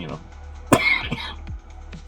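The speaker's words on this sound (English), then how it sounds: "Why am I coughing?" A single sharp cough rings out close to the mic, followed by a few softer throat sounds and faint breaths.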